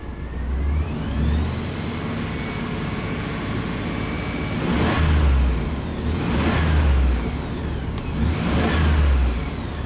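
A GM truck engine with a P1515 reduced-power fault idles while parked, its steady running broken by three loud, swelling revs, each rising and falling away, close by with no talk.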